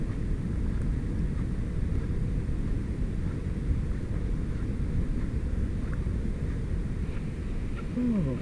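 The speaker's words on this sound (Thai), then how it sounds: "ขึ้นลมแรงมาก" Strong wind blowing at a beach, a loud, steady rumbling roar buffeting the microphone for the whole stretch, with no clear voices over it.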